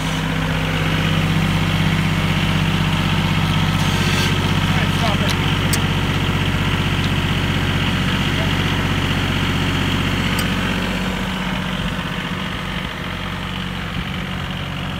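A John Deere 850 tractor engine idles steadily and close by, a deep even rumble with slight vibration throughout.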